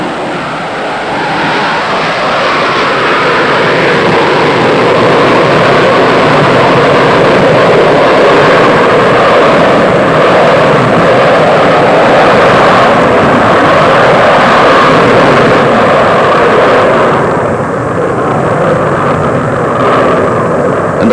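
Concorde 02 supersonic airliner taking off with its engines at full power, a loud, steady, broadband jet roar that fills the whole clip with little change, swelling slightly in the middle before easing near the end.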